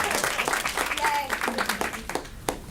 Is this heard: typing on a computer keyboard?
no